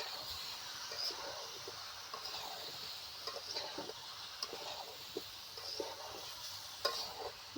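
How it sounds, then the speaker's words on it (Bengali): Mango pickle spices being stirred and fried in a pan, with soft scraping strokes and a light steady sizzle running throughout at low, close volume, no talking. "এবার ভালোভাবে মশলা সব কষে নেব।"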